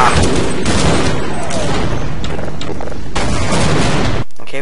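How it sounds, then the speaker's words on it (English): A grenade explodes during a Half-Life firefight with soldiers, loud and close among dense bursts of gunfire and booming blasts that fill the whole stretch before cutting off abruptly. "That's a grenade."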